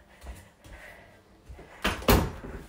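A door bumps lightly a few times before closing with two firmer thuds near the end, close by in a room.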